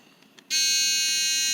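An electric buzzer in a sodium sulfate water conductivity test switches on abruptly after a quiet moment and holds a loud, steady, shrill tone to the end.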